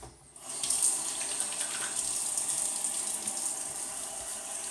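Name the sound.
water running and splashing on face before shaving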